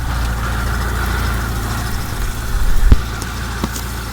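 Mitsubishi 4G13 engine idling steadily at 800 RPM during an ignition timing check, a loud, even low rumble close by with a brief knock near the end.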